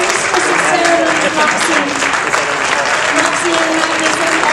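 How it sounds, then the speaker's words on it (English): Steady, loud applause from a convention audience at a Star Trek fan event's opening ceremony fills the hall without a break, dense clapping with a faint crowd murmur. "A big round of applause for our queen, our mistress of ceremony"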